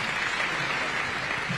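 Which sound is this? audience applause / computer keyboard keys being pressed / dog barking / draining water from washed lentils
audience applause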